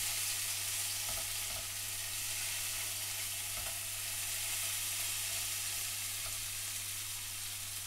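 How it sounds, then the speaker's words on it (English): Steady sizzling of garlic and ginger frying in a pan, a constant hiss with occasional soft clicks from stirring, close and even, no speech. "Add the garlic and ginger, mix through and fry for 1 minute."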